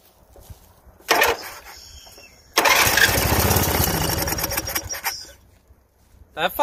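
A Toro 13-38 HXL lawn tractor engine with a choke that does not seal cranks in a short burst, then fires and runs loudly for a few seconds before dying away, close by.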